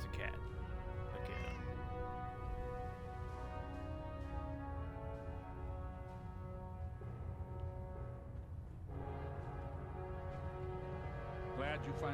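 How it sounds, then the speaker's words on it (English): A cat meows in Fallout 4, with short rising meows near the start and again near the end, heard over a dense, steady game music and ambience bed and mixed with voices talking. "Heard a cat. There's a cat."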